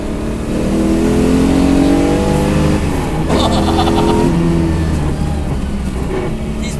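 LS V8-powered Subaru BRZ on solid bushings revving hard while driving: a loud, continuous engine roar climbing through gears, with the pitch rising, dropping at a shift, and rising again, close and dominant.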